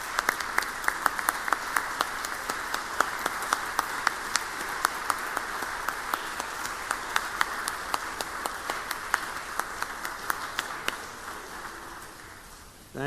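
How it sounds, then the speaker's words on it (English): A round of applause fills the Mississippi state Senate chamber, a steady wash of many hands clapping for about twelve seconds, fairly even and moderately loud before trailing off. "So let's give them all one big round of applause for the work that they do."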